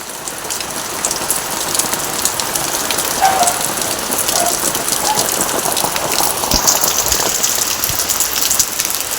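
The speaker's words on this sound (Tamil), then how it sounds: "நல்ல மழை, செம்ம மழை பெய்யுது." Heavy rain pouring down steadily, a dense, loud hiss of drops drumming on surfaces close by, unbroken for the whole stretch with no voices.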